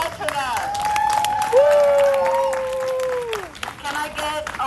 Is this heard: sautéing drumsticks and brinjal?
no